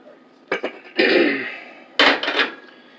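Dishes, pots and pans clatter in a home kitchen while cheesy scalloped potatoes and ham are cooked, with sharp metallic knocks in two clusters and a ringing scrape between them.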